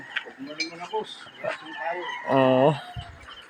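Chickens at a coop on a rainy morning, with clucking and a short loud crow partway through, close by and mixed with people talking.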